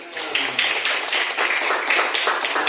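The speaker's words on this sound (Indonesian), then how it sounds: "Kita berikan aplaus untuk Sophie Ahmad." Applause from a classroom group for a student, Sophie Ahmad, during a teacher-training lesson in Indonesia; steady, dense clapping sustained throughout at moderate loudness with no talk.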